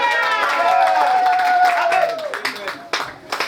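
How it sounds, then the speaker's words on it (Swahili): A church congregation breaks into applause during a Swahili sermon on development offerings, a burst of clapping rising under a sustained singing or talking voice and then thinning into scattered claps. "Mshangilie kwa makofi."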